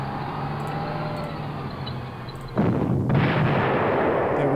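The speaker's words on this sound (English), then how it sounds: "now these guys get their artillery fire" Artillery fire in the World War II strategy game Panzer Corps Gold sounds as a sudden loud boom with a rumbling tail over steady background noise, heard alone without talk.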